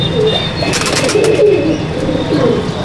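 Chapka Giribaz pigeons, an old breed, coo steadily in a loft, with soft overlapping calls and occasional brief chirps close by and no talking.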